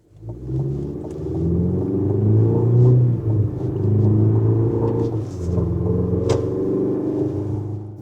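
A 2025 GMC Canyon Denali pickup with a small four-cylinder engine accelerates, its low engine drone and rumble steady and close from inside the cab, with no talking.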